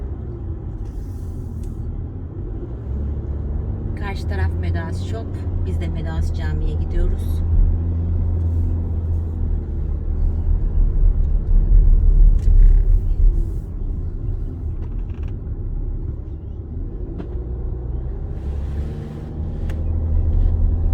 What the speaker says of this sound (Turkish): Bu trafik işte cuma trafiği.